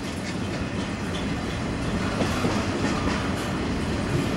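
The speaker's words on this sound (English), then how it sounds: "This train is eastbound, leaving Beaumont." An eastbound Kansas City Southern manifest freight train rolls past in Beaumont, Texas, near the Neches River, with a steady roar of wheels and clattering railcars, close and sustained, no voices.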